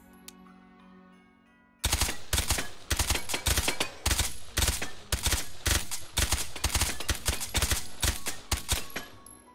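Rapid gunfire from an integrally suppressed pistol in the VR game Hot Dogs, Horseshoes & Hand Grenades, in a steady run of closely spaced sharp bursts after a quiet start, loud and up close with no talking.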